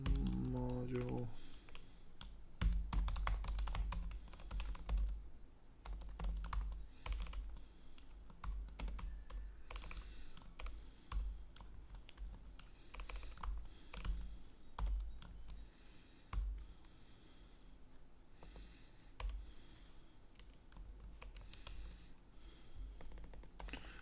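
Rapid typing on a computer keyboard, keys clicking in uneven bursts close by at a soft level for the whole stretch, with brief speech mixed in.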